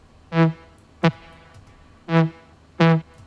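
Short synth stabs pop in and drop out abruptly, four choppy bursts with silence pumping between them, sounding heavily ducked and uneven from overly strong sidechain compression.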